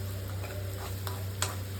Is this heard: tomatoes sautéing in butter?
yes